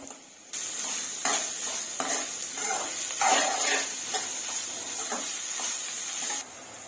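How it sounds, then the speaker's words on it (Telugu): Sliced onions and green chilies frying in oil for a spicy mutton fry, giving a continuous close sizzle with stirring scrapes, moderately loud and without talk. "ఇప్పుడు ఉల్లిపాయ ముక్కలు, పచ్చిమిర్చి, ఉల్లిపాయలు బాగా గోల్డ్ కలర్ వచ్చే వరకు ఫ్రై చేసుకుందాం."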